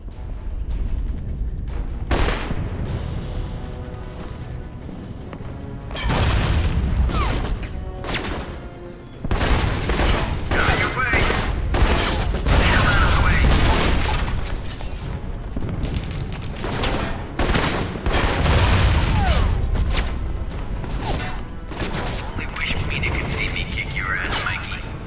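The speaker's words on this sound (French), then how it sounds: "Il balance une grenade à nulle part, au pif. Et après il balance des tirs et une nuée de grenades." Grenade blasts and gunfire in the video game Alpha Protocol, heavy booms and cracking volleys arriving in waves while someone talks over the action.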